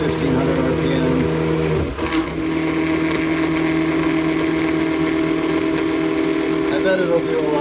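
CNC mill fitted with a Daishowa spindle speed increaser running at 7500 RPM, a 4-flute 1/4-inch end mill cutting metal with a steady loud whine and hum throughout, broken by one brief dip.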